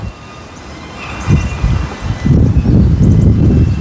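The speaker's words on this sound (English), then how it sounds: "Can't this wind stop?" Strong wind blowing outdoors, loud rumbling gusts buffeting the microphone and building toward the end, with no one speaking.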